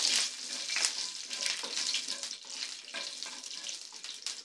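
Garlic with green and dried chillies sautés in a pan for yellow pumpkin poriyal, a soft steady sizzle with faint stirring scrapes, close but quiet and without voices.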